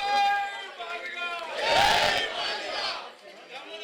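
A large crowd at a rally for SC sub-categorisation chants "jai jai madiga" together, a loud swelling roar in the middle with voices layered over one another.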